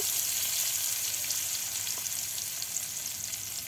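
Chopped garlic, bay leaf and onion fry in a hot pan with a steady, dense sizzle that stays loud and even throughout, with no voices.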